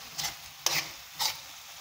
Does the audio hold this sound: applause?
no